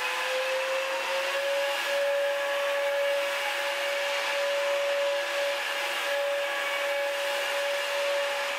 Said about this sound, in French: Ma fille se bouche les oreilles quand je passe cet aspirateur laveur